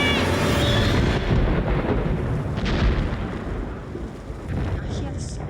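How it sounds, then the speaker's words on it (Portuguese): About a quarter ton of rock breaks loose and tumbles down a mountainside in the Alps, a loud rumbling roar that fades over several seconds, with voices faintly underneath. "Ouvi um estrondo imenso e terrível enquanto ela caía pela montanha."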